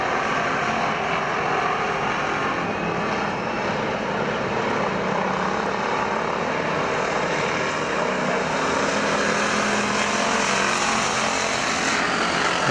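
Stock cars in an American Factory Stock main event roar steadily around Perris Auto Speedway, a dense, continuous engine drone that stays loud and even throughout with no clear passes standing out.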